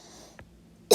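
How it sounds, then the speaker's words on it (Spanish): A single sharp cough bursts out near the end, loud and close, after near silence. "disculpe la tos"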